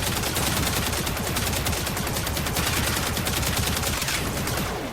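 The Athodai pistol in Warframe, fired at max rank, lets out a loud, unbroken stream of rapid shots that rattle steadily for the whole stretch with no pauses, with no talk over it.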